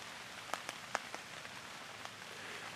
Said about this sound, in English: as you probably can hear, rain tapping on the tarp.